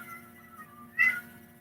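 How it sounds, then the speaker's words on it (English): A large multi-toed cat lets out one short, fairly loud meow partway through, over a quiet steady hum. "the bigger cat you saw with the multi-toes roaming around, meowing, that you hear now"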